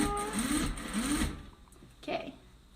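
A sewing machine whirs in a steady mechanical run for over a second, then stops, followed by a brief faint voice.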